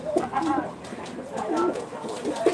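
Soft, throaty cooing of Ankara tumbler pigeons, a few repeated rolling calls close by, with faint background noise and no clear talk.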